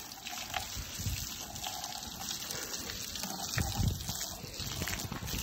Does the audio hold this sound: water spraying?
yes